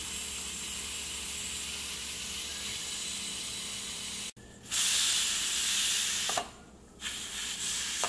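Loud, steady hiss of steam venting from a pressure cooker cooking Toscana sausage, cutting out abruptly midway, then resuming in strong bursts with short pauses.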